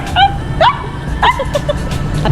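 A big dog barks several times in short, sharp yips and woofs, moderately close, over a steady background hum.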